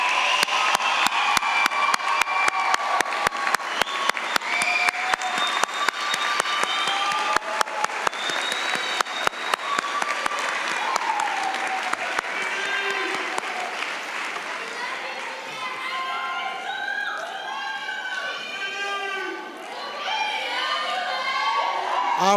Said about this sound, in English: let's give this group of graduates one more round of applause